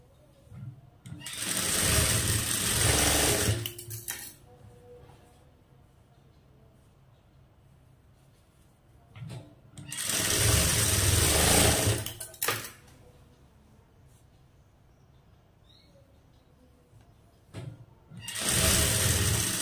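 A sewing machine stitches a blouse in three long, loud, steady bursts separated by quiet pauses.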